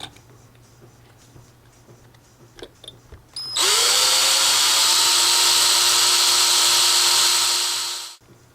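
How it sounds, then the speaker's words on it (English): Power drill boring through the steel receiver of a Saiga 7.62 rifle, a few faint clicks and handling noises, then a loud, steady high-pitched whine for about four seconds before stopping abruptly. "you want to make sure you drill straight down"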